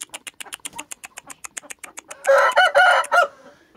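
Young chickens (pullets) cluck in a quick run of short, close calls, swelling into louder, harsher squawks near the end.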